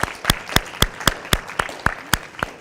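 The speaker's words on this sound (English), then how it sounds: "Give yourselves a round of applause." A conference audience claps for itself, with about nine sharp, evenly spaced claps ringing out close and clear over a softer wash of scattered clapping.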